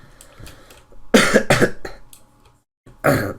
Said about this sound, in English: Sorry for the coughing again.